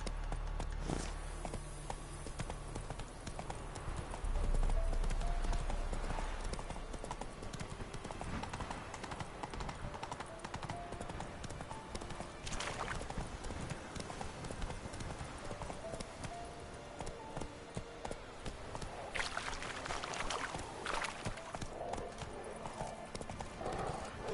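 Roach the horse galloping in The Witcher 3 while exploring Velen, loud, dense, rapid hoofbeats running continuously throughout, with a brief snort or whinny and occasional spoken lines over the game's music and ambience.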